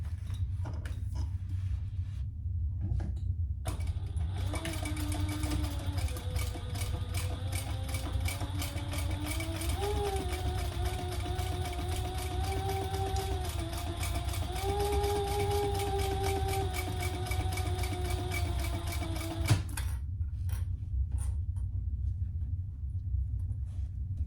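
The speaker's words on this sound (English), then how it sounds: "let's sew across the bottom" Sewing machine stitching across the bottom of a mini crossbody bag: a steady close-up motor whir running about fifteen seconds with rapid needle ticking, starting and stopping cleanly with quiet pauses either side.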